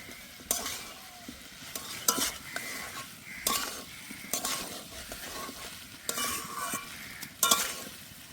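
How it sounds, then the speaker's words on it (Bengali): Fried potatoes being stirred and sautéed into a young jackfruit curry in a pan, with repeated scraping stirs and spatula knocks over a steady sizzle, close and moderately loud. "ভেজে রাখা আলুগুলো দিয়ে দেবো। এবার খুব ভালো করে কষে নেব।"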